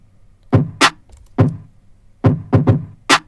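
Punchy hip-hop drum pattern with a stereo Haas widening effect, crisp kicks and snappy hits landing in an uneven groove, about eight sharp strikes over a quiet background, dry and upfront with no voices.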